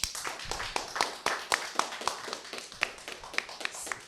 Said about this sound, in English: So let's get a clap for my man, Mr. 13.